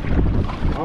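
A snorkeling boat's engine rumbles low beneath rushing wind and splashing water in a short, continuous burst off Diani Beach, Kenya.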